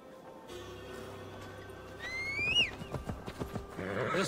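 A horse in Assassin's Creed Valhalla, ridden through a Gloucestershire forest, gives a loud rising whinny partway through, surrounded by a run of clip-clopping hoofbeats under a low ambient drone.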